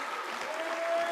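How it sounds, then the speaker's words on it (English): Applause at a national convention banquet honoring a scholarship class, a dense, steady wash of many hands clapping from a large audience, sustained evenly throughout with no talk over it. "Let's have another round of applause for our scholarship class."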